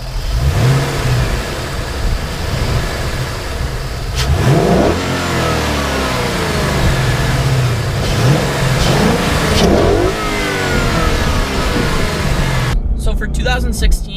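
A 2016 Ford Mustang GT with a 5-liter V8 revs loudly in repeated rising and falling sweeps, its deep engine note filling the scene close up, while someone talks over it.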